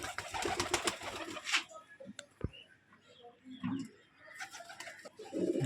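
Tail-feathered breeding pigeons coo in low murmuring bursts near the microphone, mixed with scattered clattering and rustling noises, with louder stretches at the start and end.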